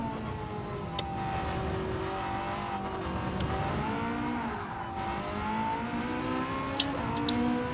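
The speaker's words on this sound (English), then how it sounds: "Ferrari does sound the best." Ferrari hypercar engine in Gran Turismo 7 at Le Mans in the wet, droning steadily with layered harmonic tones that shift gently in pitch, loud and continuous throughout with no talk.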